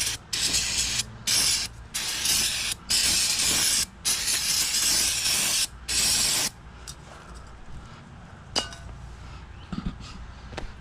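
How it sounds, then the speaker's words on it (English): Several bursts of aerosol spray hiss in quick succession onto a salvaged Briggs and Stratton generator, each a second or so long, followed by quieter handling clicks and rustles. "Just want to give this one more spray just because of the gasoline that I did spill."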